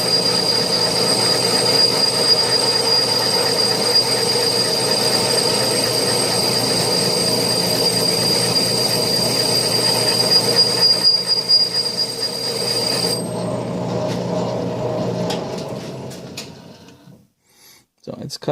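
An Atlas 6-inch metal lathe takes a facing cut across a chuck backer plate, giving a continuous loud, high-pitched squealing whine over a motor hum that stops abruptly near the end, leaving a quiet rattle.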